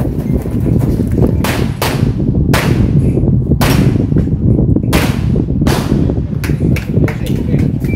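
Loud 9mm pistol shots ring out at a shooting range, about a dozen sharp cracks fired singly and in quick pairs at irregular intervals, over steady background noise.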